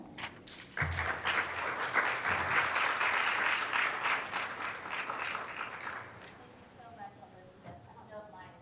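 An audience welcomes a panel with applause at a community panel event, a dense burst of many hands clapping that swells quickly, holds for several seconds, then fades out as people begin talking.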